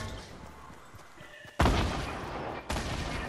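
Video game gunfire in Fortnite Battle Royale erupts in two loud, sharp bursts over a quieter background murmur.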